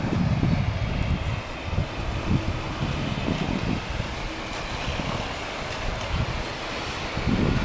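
Wind-buffeted, broadband roar of an airliner passing at moderate distance, a steady washing rumble lasting several seconds with gusty microphone noise.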